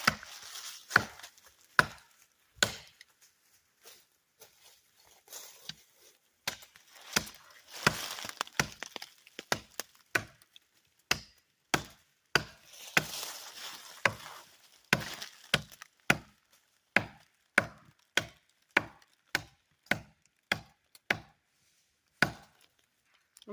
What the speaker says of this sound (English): But if I chop in more on this side,